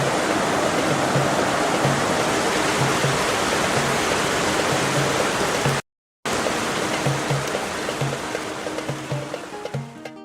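Water rushes steadily at the source of the River Jordan, a loud, broad and continuous roar like a stream or small waterfall close by. It cuts out for a moment in the middle, then carries on and fades slightly toward the end.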